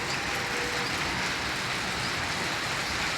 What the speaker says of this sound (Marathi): बघा मित्रांनो पाऊस बघा किती मोठा आहे